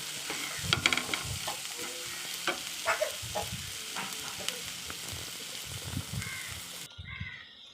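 Okra (ladies finger) frying in a pan hisses steadily while a utensil scrapes and stirs it in uneven strokes, with crows cawing in the background.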